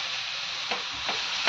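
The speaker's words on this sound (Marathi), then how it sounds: "आता हे व्यवस्थित एकसारखं सारण परतून घ्यायचं, एकसारखं होईपर्यंत." Modak filling of jaggery and roasted coconut being sautéed, a continuous close sizzle with faint scraping strokes of the spoon at a steady pace.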